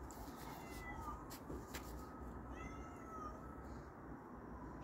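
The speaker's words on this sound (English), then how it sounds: "my housemate's cat showed up." A loud cat meows repeatedly, likely from outside the door, heard as a few drawn-out calls over a low steady background.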